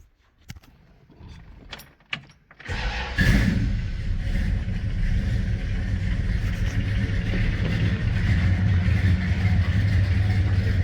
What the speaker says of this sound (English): So now she's idling down, I don't know, 800 or so